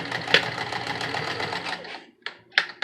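A home sewing machine back stitches a homemade fabric face mask, a steady close mechanical whir of needle strokes that stops near the end, followed by a couple of short sharp clicks.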